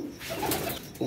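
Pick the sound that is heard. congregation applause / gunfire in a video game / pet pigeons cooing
pet pigeons cooing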